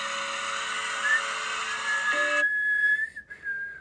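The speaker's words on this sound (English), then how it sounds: "Thomas was so happy he wanted to whistle" A cartoon steam engine's whistle sounds loud and sustained for a few seconds, shifting pitch before cutting off, with no talking.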